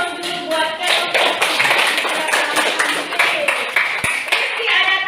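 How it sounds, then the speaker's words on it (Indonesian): A class of junior high students applauds a classmate's civics presentation in an Indonesian classroom. The steady, dense clapping continues throughout the clip, with voices talking underneath it. "berikan aplaus dulu buat"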